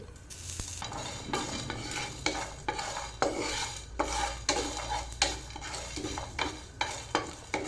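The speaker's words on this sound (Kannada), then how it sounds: "ಸ್ವಲ್ಪ ಕಾಳು ಮೆಣಸನ್ನು ತೊಗೊಂಡಿದ್ದೇನೆ, ಇದನ್ನು ಫ್ರೈ ಮಾಡ್ತೇನೆ" Whole spices, fenugreek, cashews, cinnamon, cloves and pepper frying in a hot pan, with a steady sizzle and repeated close scrapes and clinks of a spoon stirring against the metal, with no voices.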